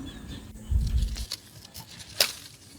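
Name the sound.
rustling of plant leaves as ties are removed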